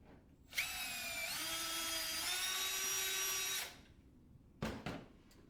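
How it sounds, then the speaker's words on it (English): A power drill whines steadily for about three seconds, close and loud, its pitch rising slightly as it bites in while drilling a bolt hole for conductor bar sealing strips, then stops, followed by two brief clicks. "So I'm going to take my drill again and drill out the second hole."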